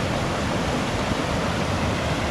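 A waterfall along the Old Rosalie Trail near Deer Creek gives a constant, dense rush of falling water, loud and close, with no other sound.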